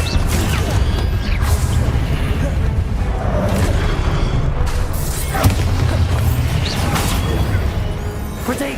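An Expelliarmus spell cast in the video game Hogwarts Legacy comes through as a dense rumbling blast with booming, crashing magical impacts and whooshes. It stays continuous and loud for several seconds.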